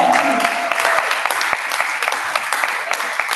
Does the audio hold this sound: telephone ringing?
no